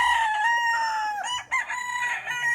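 A rooster crows loudly and close by at a backyard chicken coop, a long drawn-out call with a brief break, no voices.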